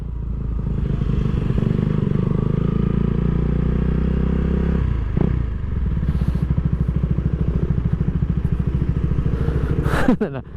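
A KTM Duke 390 motorcycle at a beach owners' club meetup idles loudly nearby with a steady, throbbing single-cylinder rumble, then settles into a faster pulsing beat before a sharp rev rises at the end.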